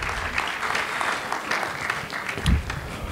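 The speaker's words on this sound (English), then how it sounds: "One more round of applause for Bernice McFadden and Donna Hill." A college event audience gives sustained applause for two authors, a dense, steady wash of many hands clapping at moderate volume throughout, with a slight swell near the end and no clear talk.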